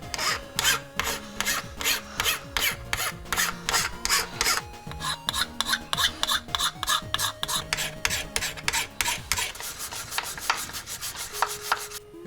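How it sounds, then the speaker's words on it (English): A large file rasps back and forth over a NERF toy to remove a printed logo, making steady rhythmic strokes of close, fairly loud scraping that speed up toward the end. "I'm just gonna take this big old file right here and I'm gonna gently try to sand that down"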